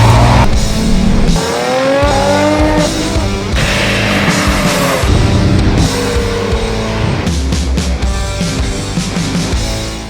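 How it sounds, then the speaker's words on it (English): A 2007 Lexus IS 350 engine revs loudly and close, rising and falling in pitch through several sustained pulls with a continuous roar. "rev up your Lexus."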